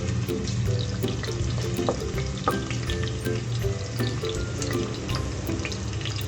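Onions fry in heated oil for an eggplant and hyacinth bean biryani, a steady close sizzle with intermittent clicks and utensil taps throughout.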